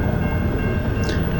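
A huge, very long freight train hauling iron ore rumbles past in the Australian outback between Nanutarra and Karratha, a steady low rolling roar from a distance, with no voices.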